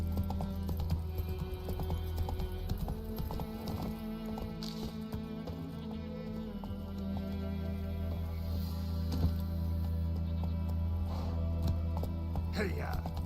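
Hooves of Roach, a horse in a video game, clip-clop at a fast, steady gallop over a continuous game soundtrack.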